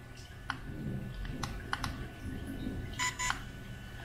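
A DJI Phantom 3 Pro drone with a faulty gimbal powers off, giving a few short electronic beeps and clicks, with a quick double tone near the end, close and quiet over faint room noise.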